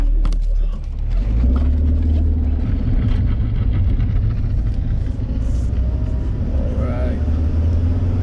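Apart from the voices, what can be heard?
Toyota Corolla AE86 with welded diff driving on test drive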